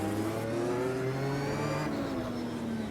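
A race car engine in Automobilista 2 drones loudly and steadily, its pitch sliding through gear changes and gradually falling as it slows, close and without talking.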